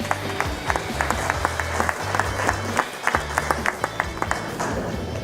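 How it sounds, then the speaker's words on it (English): An audience at an investors conference applauds a panel introduction, a full steady round of clapping from many hands sustained for several seconds, fairly close and loud, with no talk over it. "Let's give them a round of applause"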